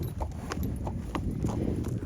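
A horse's hooves clip-clop in a steady walking rhythm as it is led to the field, close and distinct over a low outdoor rumble.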